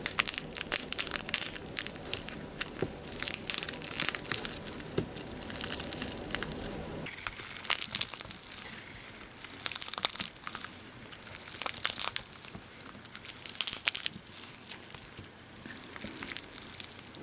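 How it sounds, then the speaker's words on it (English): Beads being pried out of a silicone picky pad make close, dense crackling pops and small snaps in an irregular, steady stream, quiet and intimate with no talking. "listen to the pops and cracks in there"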